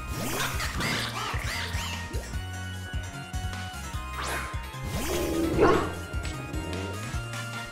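A dog Pokémon barks and yips during a battle in the Pokémon Violet video game. The calls are repeated over game music and sit among thumping hit and crash effects.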